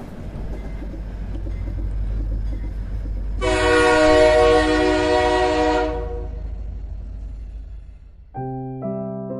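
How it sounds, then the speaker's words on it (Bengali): A train pulls into a station as a sound effect, with a low rumbling approach, a loud sustained horn blast in the middle and a short whistle-like tone toward the end. "ঝাড়া 2 ঘন্টা লেট করে আমাদের ট্রেন অবশেষে এনজেপি পৌঁছলো"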